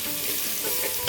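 Chopped onions and green chillies sauté in an oil-filled pan for biryani, giving a steady close sizzle with scraping stirs of a spoon and no talking.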